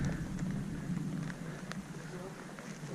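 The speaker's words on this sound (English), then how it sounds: "Don't know how long this rain's going to last for." Rain falls on a wild campsite in Sweden, a steady close hiss of drops with scattered sharper taps and a low rumbling undertone throughout.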